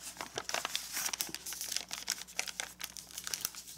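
Thin origami paper is folded, creased and unfolded in a quiet room, with close, dense crinkling and crisp rustles through the whole stretch and no talking.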